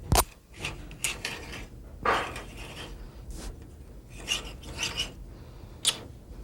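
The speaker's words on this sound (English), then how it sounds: "We'll kind of lift this reamer up where we'll be sure and cut out all of that pre-existing ledge that was in there." A hand reamer cuts metal inside a pistol slide to remove a ledge during gunsmithing work, making a series of short, rasping scrapes in irregular bursts, close and fairly quiet, with brief pauses between strokes.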